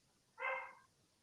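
A single dog bark sounds from indoors at middle distance, short and moderately loud against a quiet room.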